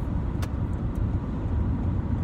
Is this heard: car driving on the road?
yes